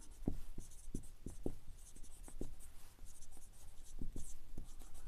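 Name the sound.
writing during a math lesson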